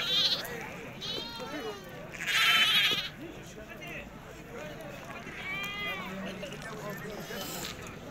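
Sheep bleat at a livestock market in Morocco. There are several wavering bleats, one louder and closer, mixed with crowd noise and people talking nearby.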